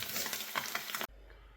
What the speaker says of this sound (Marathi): आता अंडा फ्राय झालेले आहे पूर्ण व्यवस्थित